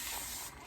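Fabric getting a quick misting from a spray bottle before ironing a quilt block, a short hissing spray close by with no talk.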